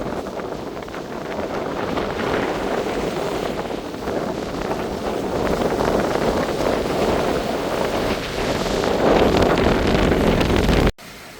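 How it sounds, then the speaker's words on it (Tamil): Strong cyclone wind in Jaffna near the Nainativu boat service buffets the microphone in a continuous roaring rush, growing louder toward the end before cutting off abruptly. "அவ்வளோ காற்று வீசு"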